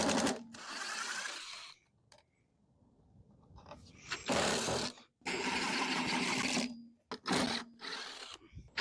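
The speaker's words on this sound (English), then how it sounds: "I'm gonna do it with a power drill." A power drill backing screws out of a vintage dining set salvaged from the trash, whirring in loud bursts of a second or two, separated by short pauses and quiet handling noises.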